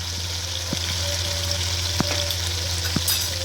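Boiled mutton being fried in a pot with tomato and ginger-garlic paste for Kabuli pulao, giving a steady soft sizzle with occasional light stirring clicks, close and continuous with no talking.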